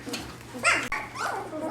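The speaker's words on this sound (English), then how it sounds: "Oh, the other dog's barking." Dog barking somewhere in a home where newborn Gerberian Shepsky puppies rest during a storm, a pack of dogs at play. A few short, fairly close barks and yelps cut through soft talk from a person nearby.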